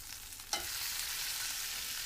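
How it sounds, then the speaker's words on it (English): Salmon fillets sear in a hot pan, edges pressed to the metal, giving a steady, close broadband sizzle with one brief sharp crackle early on and no voices. "I also like to touch the salmon on the sides too, so just to kind of give it that nice little cook on the sides as well"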